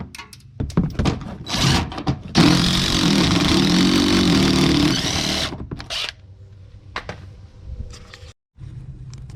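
Power drill backing out 10mm screws from the wheel well liner of a 2008 Dodge Ram 1500, short buzzing bursts followed by one long sustained whir, then clinks and handling noises, close and loud.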